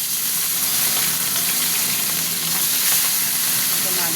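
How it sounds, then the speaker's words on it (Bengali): Pieces of rohu fish fry in hot oil in an iron wok, giving a steady, loud, dense sizzle with a crackling spatter that continues unbroken throughout and is heard alone. "তেল গরম হয়ে গেছে, এবার কাটাপোনা মাছগুলো ভেজে নেবো।"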